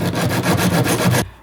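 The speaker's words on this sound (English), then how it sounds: "cut the rests of the PVC pipe off, and of course the rest of the wood." A hand saw cuts through PVC pipe and wood in rapid back-and-forth strokes, loud and close, about seven rasping strokes before it stops abruptly.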